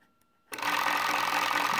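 A Waterpik water flosser switches on after a brief quiet moment, then runs with a steady, close buzzing pump rattle.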